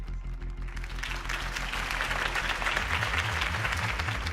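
Crowd applause following a campaign speech in a Batman video game, steady and full throughout over a low rhythmic musical background.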